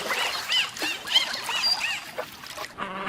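Dolphins chatter in a rapid run of squeaky whistles and buzzy clicks, several short bursts in quick succession, fairly close and moderately loud, ending in a rough pulsed buzz.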